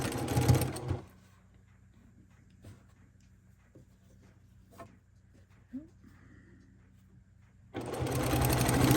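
A sewing machine stitches migrating geese quilt units in two loud, steady whirring bursts at the start and the end, with quiet handling sounds and faint voice in between.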